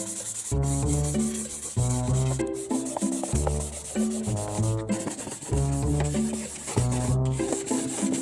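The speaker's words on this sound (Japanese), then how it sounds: "カットが終わったので紙やすりで磨いていこうと思います。" Sandpaper rubs back and forth over cut wood for a kitchen spice rack in steady, rhythmic strokes, close and even, with brief pauses between passes.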